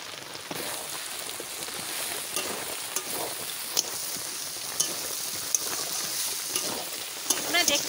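Goat meat curry sautéing in a pan after chili powder goes in, a steady close sizzle and frying crackle with soft stirring scrapes throughout, no talking.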